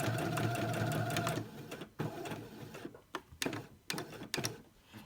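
Domestic sewing machine stitching fabric pieces for a marble maze, a steady mechanical whir for over a second, then short separate bursts of stitching with pauses between them.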